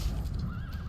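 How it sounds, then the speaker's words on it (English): Unhappy horses in The Witcher 3 let out a single close, wavering neigh over a low rumbling game background, with no talking. "These horses are very unhappy."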